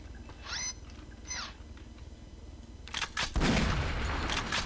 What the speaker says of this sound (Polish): Ła, ale wybuch.